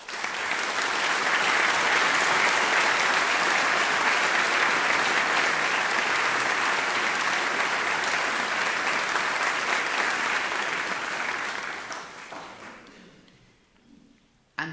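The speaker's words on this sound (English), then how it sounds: "I would just like to have just a celebration of you with applause," Graduation ceremony audience in London giving sustained, loud applause from a large crowd, holding steady for about twelve seconds before fading away.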